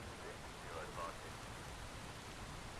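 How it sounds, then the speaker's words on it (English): Steady rain from the video game Phasmophobia fills the clip as a dense, even hiss, loud as if heard from indoors, with a faint voice briefly audible beneath it. "I dread the rain on this map, though. It is so stinking loud inside."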